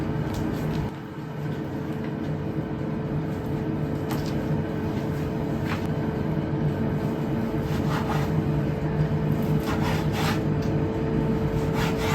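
Repeated rasping strokes of a knife cutting bacon into centimeter pieces on a wooden board, steady and close, with faint background hum.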